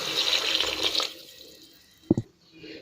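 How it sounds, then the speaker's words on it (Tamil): Water pours into a pan of meal maker biryani masala with tomato and onion, a brief rushing splash that stops after about a second, followed by a small clunk. "இப்போ தேவையான அளவு தண்ணி ஊற்றிக்கலாம்."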